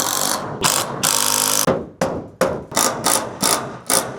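A driver sinks screws into wood framing while a hose reel bracket is mounted on a building: loud, close ratcheting bursts, first long runs, then a quick series of short, sharp pulses.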